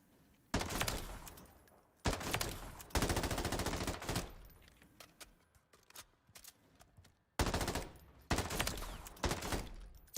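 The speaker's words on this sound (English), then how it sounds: "it's the fastest killing assault rifle in the game" Bursts of automatic assault rifle fire from the MW3 Zombies video game come in several sustained volleys separated by short quiet gaps, loud and close.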